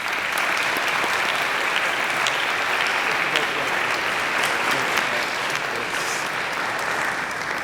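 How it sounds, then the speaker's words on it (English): A convocation audience applauds to welcome the university president as speaker, a loud, even roar of many hands clapping that holds steady throughout without a break. "Let's please give another round of applause to both Omar and Gabrielle for the wonderful introduction"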